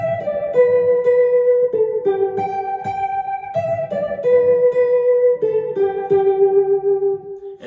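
Electric guitar plays a melodic lead break from a church worship song, processed with delay and rotary effects, giving ringing, echoing notes in a steady phrase with no talking.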